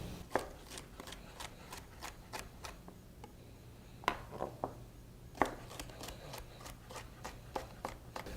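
A kitchen knife chops salad greens on a cutting board for a quinoa salad. The sharp, close taps come in irregular bursts with brief pauses between runs.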